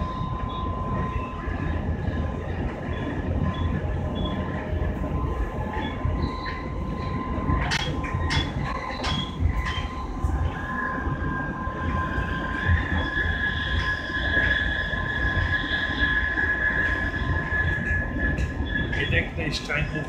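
Steady low rumble of a train interior on a ride to Utrecht, with continuous rolling noise, a faint tonal whine rising midway and a few brief clicks, close and sustained throughout.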